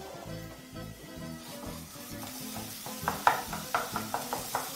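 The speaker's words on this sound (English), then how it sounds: "So to a hot pan, I'm going to add some mince." Beef mince frying in a hot pan, a low steady sizzle with stirring and a run of sharp scraping clicks toward the end.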